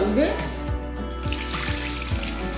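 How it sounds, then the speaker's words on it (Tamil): Hand-pounded red rice being washed in water, with a soft trickle and slosh of liquid and a few low knocks against the vessel, steady and close, with a voice speaking over it at the start. "இதை 3 தடவை நான் கழுவி எடுக்கணும்"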